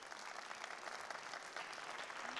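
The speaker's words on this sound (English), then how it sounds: "They'll give you a nice round of applause" Theatre audience applause at a magic show, a dense even wash of many hands clapping for the whole stretch, fairly faint and distant.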